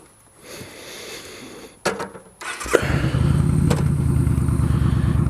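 A Striker motorcycle ridden on a hot afternoon in Texas, its engine clattering at idle before revving up and settling into a steady, loud, close-up drone.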